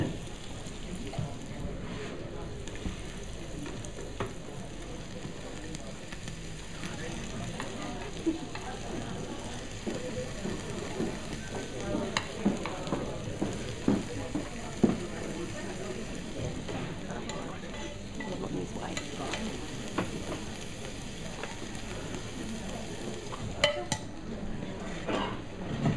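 Stir fry sizzles in a pan during a live cooking demonstration. A steady frying hiss runs throughout, broken by scattered clinks and scrapes as the food is stirred and tossed, and a voice is heard faintly at times.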